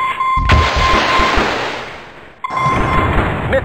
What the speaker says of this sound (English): Missile launch!